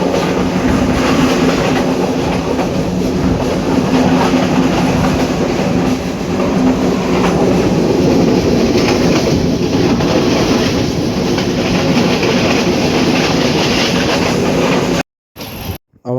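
The Kalni Express passenger train, hauled by a locomotive, rolls along in a loud, continuous roar of wheels and carriages with steady rumble and clatter, cutting off abruptly near the end.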